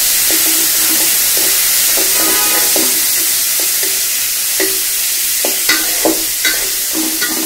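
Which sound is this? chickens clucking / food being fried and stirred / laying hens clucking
food being fried and stirred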